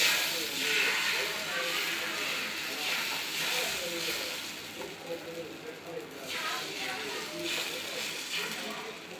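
Ragi dosa batter hisses and sizzles on a hot dosa griddle, a continuous steamy crackle with gentle swells, heard close with a voice talking over it.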